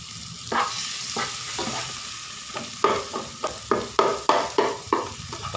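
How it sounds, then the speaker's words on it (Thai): Mala sauce stir-fried in a pan, a constant sizzle broken by a quickening series of sharp spatula scrapes and taps, close and clear. "มาแล้วก็ยีผัดไปเรื่อยๆครับผมให้มันหอม"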